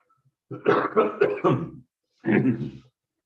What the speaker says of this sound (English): Sorry, clearing my throat again.